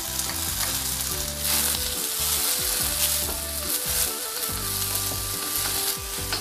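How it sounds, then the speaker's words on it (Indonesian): Large chillies and bird's-eye chillies sauté with onion in a pan for an egg dish, a loud continuous sizzle with occasional stirring scrapes and no voices throughout. "Tumis hingga layu, lalu masukkan cabai besar."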